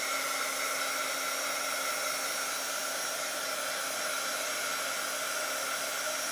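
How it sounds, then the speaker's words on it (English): An embossing heat tool blows steadily to dry a paper CD sleeve, giving a constant loud whooshing hum like a hair dryer with a faint whine, unbroken from start to finish with no talking. "let me grab my dryer real quick. And we're going to dry this."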